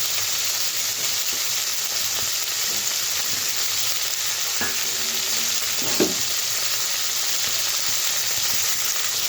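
Tomatoes hit a hot pan and fry with a steady, bright sizzle, a constant hiss broken by a couple of faint scrapes and clinks of stirring, close and uninterrupted.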